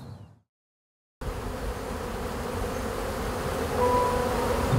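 Bees buzz in a cherry orchard, a dense, continuous hum that starts after a brief silence and swells slightly louder toward the end, with no voices.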